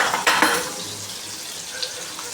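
Tomatoes frying in oil in a pan for a Marathi chickpea usal, with a soft steady sizzle and a couple of sharp utensil knocks at the start.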